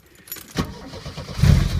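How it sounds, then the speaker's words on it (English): A Porsche 924S is started: keys jangle, the starter cranks briefly, then the engine catches and settles into a close, rumbling idle. "Right, let's fire her up,"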